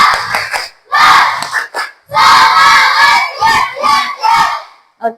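Elementary schoolchildren in a classroom shout a loud spirit chant together, rhythmic bursts of massed young voices with a few brief pauses, close and energetic.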